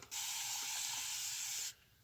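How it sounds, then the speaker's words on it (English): A single steady hiss of a spray bottle misting for about a second and a half, close and clear, then silence. "I actually love the spray bottle, this misting one."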